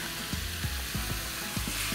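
Seafood spinach noodles seasoned with pepper, salt and oyster sauce are stirred and fried in a pan, with a steady close sizzle broken by several rhythmic scraping strokes of the utensil.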